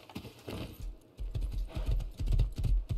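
Rhythmic hoof clip-clops from a video game horse at a steady trot, fairly close, with a low rumble beneath and no talking.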